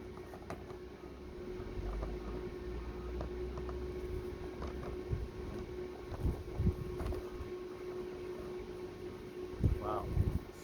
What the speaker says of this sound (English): Wow, so windy.